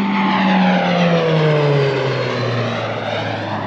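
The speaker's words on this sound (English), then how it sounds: "In Snowdonia, you get a lot of the military planes coming over because it's where they do their flight practice to go in between the mountains." Military aircraft pass overhead in Snowdonia during low-level flight practice among the mountains, a loud, steady engine roar whose pitch drops slowly as the plane sweeps past and begins to fade, with no voices.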